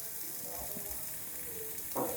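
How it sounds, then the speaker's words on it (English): Shallots and ginger sizzle quietly on a grill for charring, a soft crackling hiss with a brief louder pop of frying near the end. "Now we're gonna grill up some shallots and ginger"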